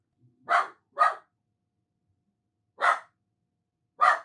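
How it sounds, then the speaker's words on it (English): A dog barks four times, close by, in short sharp yaps: two quick ones, a pause, then two more spaced apart. "He's barking at my figurines."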